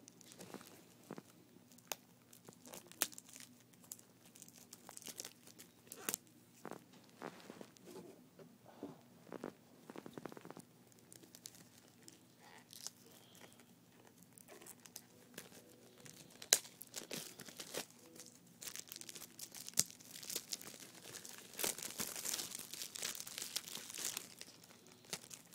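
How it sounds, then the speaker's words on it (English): Sticky shrink wrap being peeled and torn off a package during an unboxing, faint close crinkling and tearing in irregular bursts that grow busier toward the end, with no talk. "This is the kind of shrink wrap that also sticks to the side, so it's more difficult to get off."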